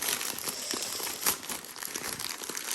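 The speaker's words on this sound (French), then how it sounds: "je vais essayer de ne pas tout déchirer" Plastic parcel packaging from a diamond painting kit order crinkles and tears as it is unwrapped by hand, a busy close rustle with several sharper ripping bursts, no voice.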